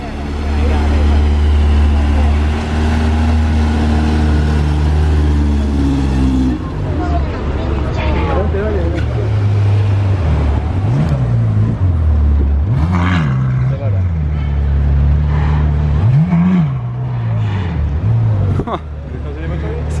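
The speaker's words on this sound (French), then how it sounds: "C'est tellement énervé les petits coups de gaz comme ça." A supercar engine in Monaco idling loud and close, then giving several short throttle blips that rise and fall in quick succession amid street noise, with people talking nearby.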